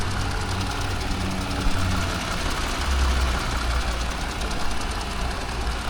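The 3.6 liter V6 engine of a 2018 Jeep Wrangler runs at a steady idle, a close, loud, even rumble with a faint ticking texture and no voices.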